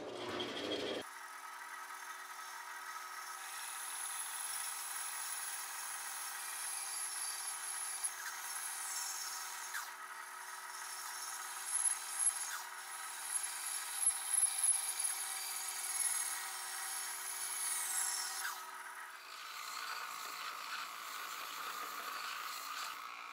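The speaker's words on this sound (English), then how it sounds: "Now you can take your jigsaw, or if you have a bandsaw, and cut it off." A jigsaw cuts through wooden cornhole board legs, with a steady, loud, buzzing motor tone and a rasping blade that stays constant for most of the clip before the cut finishes.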